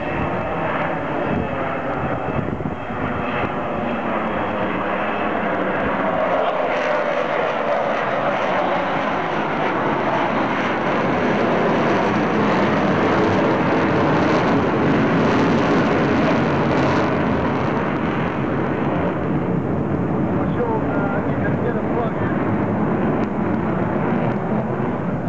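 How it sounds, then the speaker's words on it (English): An Avro Vulcan XH558 bomber flies past at the Clacton airshow, a loud, sustained jet roar that swells and sweeps in tone over about twenty-five seconds, with no speech. "Ladies and gentlemen, the Vulcan Bomber!"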